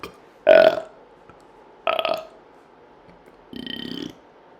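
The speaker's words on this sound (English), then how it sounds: "What else to do besides just sit here and burp?" Three separate burps from a person sitting and working on a school English project, each short and fairly loud, spaced a second or so apart in an otherwise quiet room.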